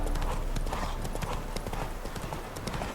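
Horse hooves clip-clop in a steady rhythmic gallop through The Witcher 3, moderately loud over faint game ambience.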